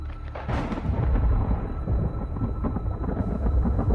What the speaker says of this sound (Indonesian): Guntur bergetar pelan